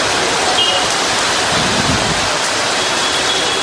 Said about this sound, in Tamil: திருச்சி மாநகரிலும் சுமார் 1 மணி நேரம் கனமழை பெய்தது.